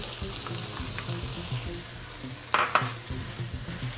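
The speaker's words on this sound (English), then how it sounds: "I'm going to mix it all together." Food being stirred in a pan with a fresh tomato just added for stacked enchiladas, a steady close sizzle with scraping spoon strokes and a louder clatter of utensil against the pan midway.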